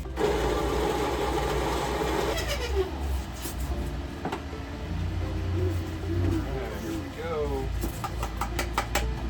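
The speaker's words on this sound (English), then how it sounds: "Let's get our beans grinding." An electric coffee grinder whirs loudly and steadily through Ethiopian coffee beans for a couple of seconds, then stops, leaving a person talking over faint clatter.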